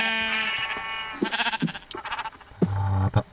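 Sheep in the video game Minecraft bleat several times in quick succession, clear and close, with short pauses between the calls and no talking over them.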